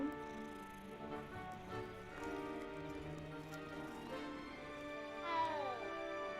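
A cat in the video game Hogwarts Legacy meows several times in a row, close and clear, its cries rising and falling in pitch, with a soft pattering ambience behind.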